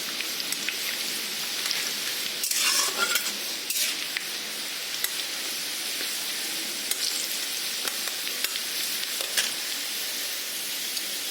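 Onions frying in a pan for Bengali boal fish jhaal, a steady broadband sizzle with occasional louder crackles and a few spoon scrapes, continuous throughout with no talking.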